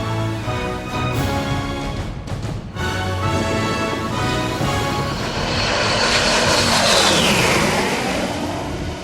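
The restored 1942 Glacier Girl airplane runs its engines with a loud, steady droning roar that swells and changes pitch in the later seconds as it passes or powers up.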